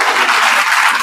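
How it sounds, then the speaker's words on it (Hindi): A crowd at an RCM MLM motivational meeting bursts into loud, dense applause, steady clapping that fills the whole second with no voices over it. "ताली बजाओ एक बार जोरदार भाई।"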